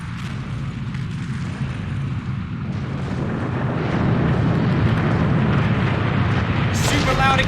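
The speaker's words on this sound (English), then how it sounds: "Super loud exploding broken secret tunnel!" A broken secret tunnel exploding in the game Thief, a continuous rumbling roar that swells louder midway and holds, with a voice talking over it and a brief crackling burst near the end.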